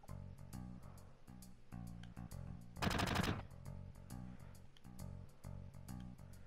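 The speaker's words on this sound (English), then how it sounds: "We almost got shot up." Gatling gun mounted atop a building in Final Fantasy 7 fires a dense half-second burst of rapid shots, loud and alone, against a backdrop of steady rhythmic game music beats.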